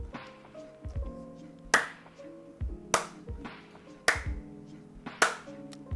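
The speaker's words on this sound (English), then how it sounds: "You get 4 claps from me." Four sharp hand claps, evenly spaced about a second apart, ring out clearly over a soft, sustained tonal background.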